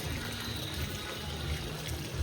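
Steady rushing and splashing of water from two pump motors running a decorative fountain at a Ganesh festival in Konkan, a continuous low hum and gush throughout, fairly close.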